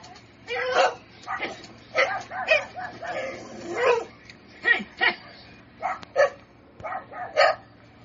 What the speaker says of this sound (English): There were some dogs barking too